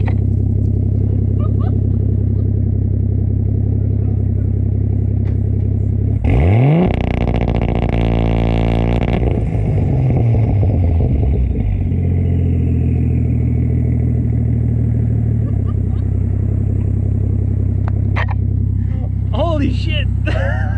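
Ford Falcon exhaust at close range while factory launch control holds the engine at a steady droning idle-rev, with surges and revs rising and falling in the middle, and a voice briefly heard near the end.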